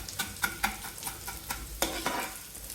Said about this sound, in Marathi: त्यामुळे आपण याला तुपात छान भाजून घेत आहोत